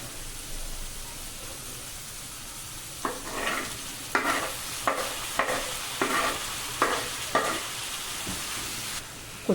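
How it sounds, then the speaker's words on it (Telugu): Onions frying in a pan with curry leaves for a drumstick egg curry: a steady soft sizzle throughout, broken by a series of louder scraping stirs about every second in the latter half. "ఇలా రంగు మారే వరకు కూడా మీరు ఉల్లిపాయలను వేయించుకోవాలి."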